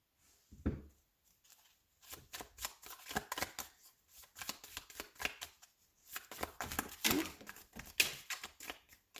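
Tarot cards being shuffled in a quiet room: repeated riffling and slapping bursts of card noise, sparse at first, then denser in several rapid runs, close and fairly soft, with no talking.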